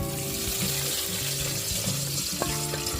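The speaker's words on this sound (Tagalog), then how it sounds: "At yung mantika, buhos lang po natin dito." Rendered pork fat oil pours through a strainer in a steady trickling stream, close and continuous, with a soft sizzling hiss underneath and a few tonal clinks.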